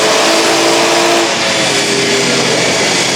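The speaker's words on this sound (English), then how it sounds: "I love that exhaust." BMW M140i with a new aftermarket exhaust revving hard, a loud, close, continuous engine roar with rising and falling pitch over a few seconds, no voices.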